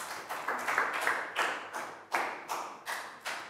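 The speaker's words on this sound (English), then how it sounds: "Big round of applause." Hands clapping out a round of applause in an English lesson for children, about a dozen separate claps in a loose, uneven rhythm, close and fairly light.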